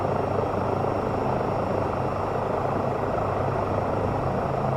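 Steady, loud rotor and turbine roar of an EC-135 helicopter spinning up in Microsoft Flight Simulator 2024, a dense continuous drone holding constant for several seconds with no voices.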